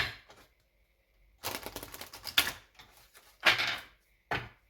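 Tarot cards being shuffled in several separate bursts of dry, papery riffling and tapping, close and fairly quiet, with short silent pauses between bursts.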